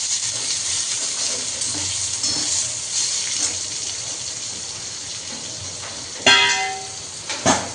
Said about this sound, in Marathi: हा कांदा आपल्याला त्यामध्ये टाकायचा आहे आणि लालसर भाजून घ्यायचा आहे हा कांदा